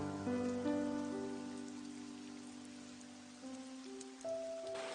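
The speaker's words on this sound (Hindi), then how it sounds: "लगता है ये बारिश अभी रुकेगी नहीं।" Steady rain falls throughout a Hindi-dubbed Doraemon cartoon scene, a continuous hiss of drops under sustained musical tones with no voices.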